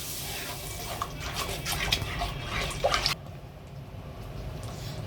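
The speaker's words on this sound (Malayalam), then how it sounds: "നമുക്ക് ആവശ്യത്തിനുള്ള വെള്ളം ഒഴിച്ചു കൊടുക്കാം." Water pours into a cooking pan of sardine curry masala with a splashing rush for about three seconds, then stops, leaving a faint background hiss.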